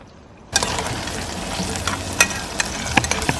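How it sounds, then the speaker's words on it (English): Onions with salt and sugar sizzle in a pan outdoors as a utensil stirs them, the hiss starting abruptly and carrying steady frying with several sharp scraping clicks, no talking. "So let me go stir it up."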